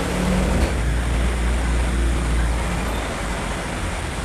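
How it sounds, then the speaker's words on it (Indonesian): Heavy rain pouring down outside during a phone repair session, a loud steady broadband roar with a low rumble underneath, constant throughout with no speech. "Wah, hujan ini kawan."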